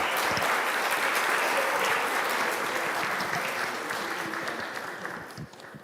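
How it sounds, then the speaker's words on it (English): Audience applause at a plenary conference session honouring a professor: dense, sustained clapping from a large room that slowly thins and fades toward the end. "Let us also give a round of applause to Professor Sheto for the wonderful work."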